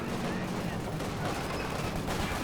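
Sniper fire and other battlefield gunfire from Company of Heroes 2 form a dense, continuous crackle of shots and impacts, loud and close, with no clear gaps between them.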